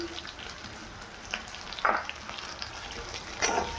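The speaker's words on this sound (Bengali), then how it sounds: "আমি তেলে পেঁয়াজ দিয়ে ভালোভাবে পেঁয়াজটা ভেজে নেব" Onions sizzle quietly in hot oil, a soft continuous crackle broken by a few brief scraping stirs.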